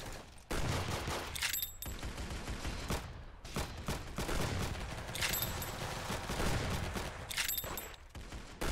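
Rapid gunfire in the Roblox shooter Arsenal, dense continuous bursts of shots with a few sharp high ricochet-like pings, loud and close throughout, without talk.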